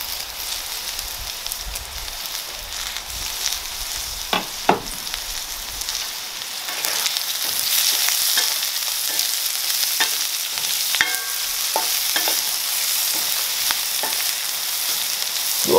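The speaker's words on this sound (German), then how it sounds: "Die Gewürze gebe ich dazu und röste sie kurz mit an." Curry powder, pepper and salt roasting with couscous in a pan, a close crackling sizzle with spoon scrapes and clicks, growing denser and brighter after a few seconds.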